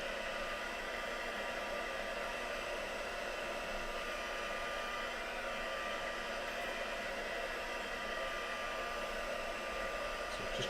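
A hair dryer blowing steadily to dry off a craft piece, its constant loud whooshing hiss running unbroken and close throughout with no talk.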